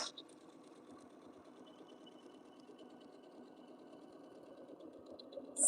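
A sewing machine stitches a quilt with a low, continuous rapid whirring hum, quiet and steady at close range, with a louder bump at the very end.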